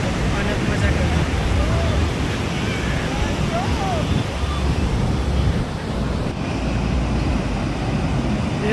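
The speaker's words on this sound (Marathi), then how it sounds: "किती मोठ्या मोठ्या लाटा येत आहेत." Large sea waves roll in at Baga Beach in a steady, loud roar of surf, mixed with gusty wind noise on the microphone and faint voices of beachgoers in the background.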